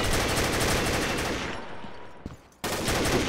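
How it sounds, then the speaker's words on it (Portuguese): Rapid automatic gunfire from the online shooter Combat Arms, a loud dense burst that fades into a brief lull with a couple of isolated shots before the barrage resumes abruptly. "Pô, três tiros no meio do cara, não pegou."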